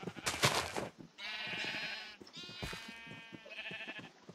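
Sheep in the Minecraft video game bleat in a quick run of several loud, close, wavering cries with short gaps between them. No one speaks.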